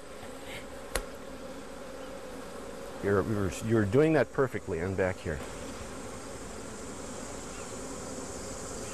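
Bees in Calumet County hum steadily around the front of a hive, a continuous insect drone that carries through the clip, with a person talking briefly over it in the middle.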